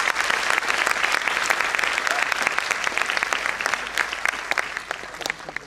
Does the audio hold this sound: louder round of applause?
yes